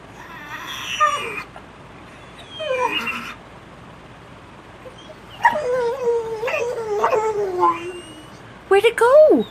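Pit bull making whiny, yowling vocal sounds, several drawn-out whimpers and howl-like calls close by, ending in a sharp burst.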